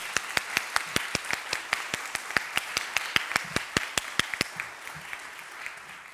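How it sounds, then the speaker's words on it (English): Audience at a scholars induction ceremony gives a round of steady applause, with sharp distinct claps in a quick regular rhythm that thins and fades toward the end. "Can we have a round of applause for all the folks at Murphy?"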